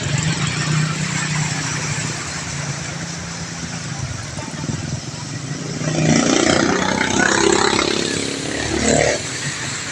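A motorcycle engine idles steadily in flood water on a highway, its exhaust nearly submerged; the low engine drone runs throughout, growing louder and rougher midway with splashing water.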